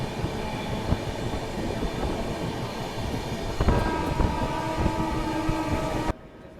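Toofan Express superfast train picking up speed, a steady rumbling roll with clattering wheels that grows slightly louder partway through before cutting off abruptly near the end.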